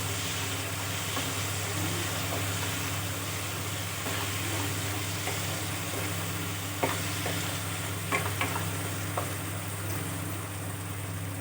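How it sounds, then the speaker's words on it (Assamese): Potatoes are stirred into softened, melted tomatoes in a hot pan, a steady low sizzle of frying with occasional soft scrapes and clicks of a spoon against the pan, close by and without speech. "এতিয়া মই আলুটো দি দিছোঁ, দি পেলাই ভালকৈ লৰাই দিম"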